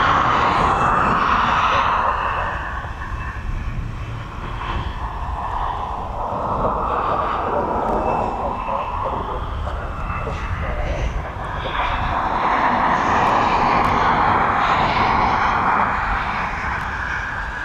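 A Jet2 Boeing 737 pushes back and taxis at East Midlands Airport, bound for Zakynthos, its engines giving a loud, continuous roar that swells and eases over the whole stretch.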